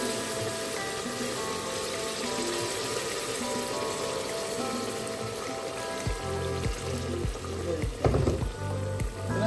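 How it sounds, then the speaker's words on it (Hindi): Water from a kettle hits potatoes frying in a pan for aloo matar curry, giving a steady loud sizzle and bubbling with a few clattering stirs near the end. "कैटल का पानी डाल दिया।"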